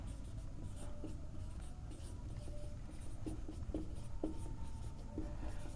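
A pen scratches across paper in short strokes and taps, close and fairly quiet, over a steady background hiss.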